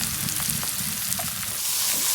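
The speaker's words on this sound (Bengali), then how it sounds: "শাকগুলো দিয়ে দেওয়া হলো কড়াইয়ের মধ্যে।" Leafy greens tossed into a wok with fried garlic and chilies, sizzling steadily up close with light stirring scrapes and no voices.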